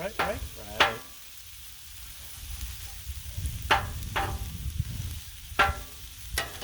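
Onions and peppers fry on a Blackstone griddle with a soft continuous sizzle, broken by several sharp metal spatula scrapes and clacks against the flat top.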